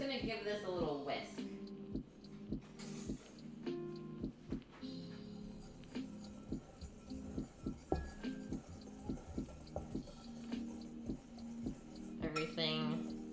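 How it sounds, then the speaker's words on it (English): A whisk clinks rapidly and steadily against a bowl as brunch ingredients are combined, producing bright, rhythmic metallic taps over a soft, tonal background. "I'm just gonna give this a little whisk"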